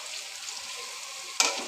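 Potatoes and carrots fry in a pan with a steady, close sizzle, sharpening into a brighter hiss at the end as the pan is stirred.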